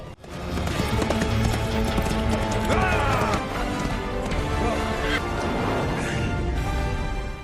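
Horses gallop and cattle stampede across open range during a chaotic drive, heavy continuous hoofbeats rumbling loud and close with scattered neighs and animal cries mixed into a dense, unbroken roar.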